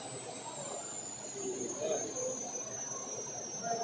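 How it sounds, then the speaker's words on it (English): High, thin electric motor whine from an RC pulling tractor on the pulling track, holding steady and slightly dropping in pitch over a constant rushing background. "And you can hear the whine to that engine."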